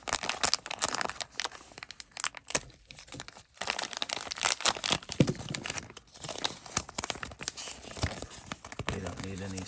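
Plastic packaging for Carisma MSA-1E oil-filled RC shocks is crinkled and torn open at close range, giving a long burst of loud crackling, ripping and rustling with short pauses between handfuls.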